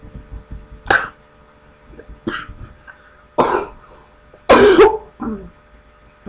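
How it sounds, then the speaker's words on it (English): Several separate coughs and throat-clearing sounds, close and fairly loud, spaced out with quiet gaps between them. "sorry for that cough."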